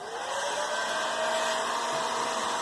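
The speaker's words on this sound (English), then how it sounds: "Now, supposed to take a heat gun" A heat gun blows continuously while drying freshly applied silver paint, a steady close whirring hiss with no pauses and no talking.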